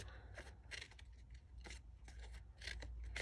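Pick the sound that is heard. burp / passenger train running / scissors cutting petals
scissors cutting petals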